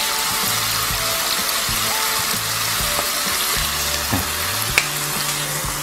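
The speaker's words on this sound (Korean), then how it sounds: "간장을 살짝 기름에 튀겨서 향을 내는 중식 요리 방법이에요" Steady, loud sizzling of liquid frying in hot oil, a dense crackling hiss with a few sharp pops and faint background tones, no voices.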